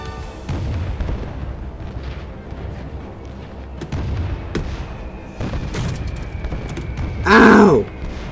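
Bombs from a bomber aircraft in War Thunder explode with repeated deep booms and artillery-like blasts over a steady engine drone, ending in one loud, sharp burst.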